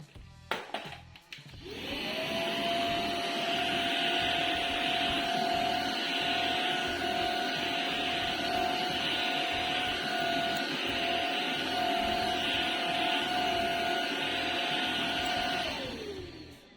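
A Proscenic P11 vacuum mop cleans dried mud from a floor, starting after a few clunks and then running as a loud, steady motor whine with a constant tone that winds down at the end.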